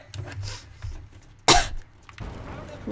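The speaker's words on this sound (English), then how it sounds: "Made me cough." A single sharp, loud cough bursts out mid-clip during a clothes-pin challenge game, surrounded by quieter talk and breathing.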